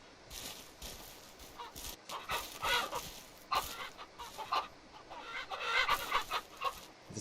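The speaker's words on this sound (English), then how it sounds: "I think that's a rooster." A rooster in the Ranch Simulator farm game clucks repeatedly in short, uneven bursts, fairly close and clear with no talk over it.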